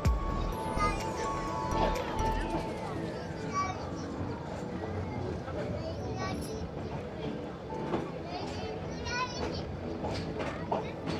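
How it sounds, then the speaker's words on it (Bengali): A train pulls out of Udhagamandalam station in a steady, busy rumble, with a long falling whistle-like tone early on and children and people chattering throughout. "এই মুহূর্তে আমাদের ট্রেন ছেড়ে বেরোচ্ছে"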